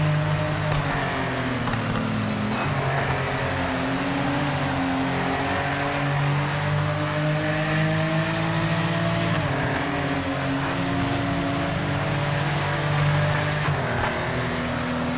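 Porsche 964 Cup race cars at the Mosport track make a loud, continuous engine drone whose pitch shifts gradually, rising and falling through gear changes over fifteen seconds, with no talking.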